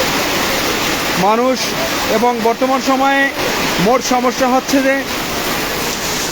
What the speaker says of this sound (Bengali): প্রচুর পরিমাণে পাথর কিন্তু পড়ছে এবং শিলাবৃষ্টি হচ্ছে। শিলাবৃষ্টি প্রচণ্ড গতিতে, বাতাস, ঝড়,